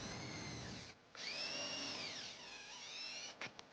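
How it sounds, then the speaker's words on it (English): A power drill with a 3/16 bit whirs steadily, drilling holes through a bracket on a 2019-2021 Hyundai Tucson, its motor pitch rising and falling as it bites in, with a brief pause and a couple of short bursts near the end. "Use the bracket as a template to drill out 2 holes using a 3/16 drill bit."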